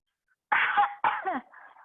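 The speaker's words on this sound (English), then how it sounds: "If you need to cough, cough into your elbow." Two muffled coughs into an elbow in quick succession, close and dampened, followed by a short breathy clearing sound.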